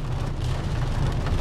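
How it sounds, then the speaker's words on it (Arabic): Steady heavy rain pours down during a thunderstorm over flooding in Agadir, Morocco, a dense continuous wash with a deep low rumble beneath, loud and close throughout. "زيد لينا العاصفة الرعدية"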